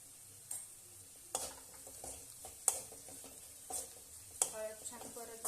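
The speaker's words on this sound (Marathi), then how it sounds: "हळद छान परतली." Turmeric and chillies sauté in hot oil in a pan for a Maharashtrian potato dish, a low sizzle broken by several sharp scrapes and clinks of a spoon stirring against the metal.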